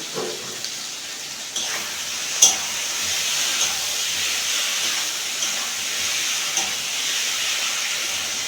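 Large pieces of boro fish sauté in a pan with spiced onion and garlic masala, a steady hissing sizzle with occasional small pops and clinks, close and even.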